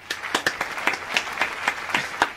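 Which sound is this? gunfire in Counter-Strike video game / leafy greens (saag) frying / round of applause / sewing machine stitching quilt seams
round of applause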